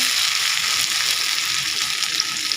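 Ground spice paste of garlic, green chili, ginger and cumin fries in a pan for goat liver bhuna, a loud dense sizzle running continuously at close range with no talking.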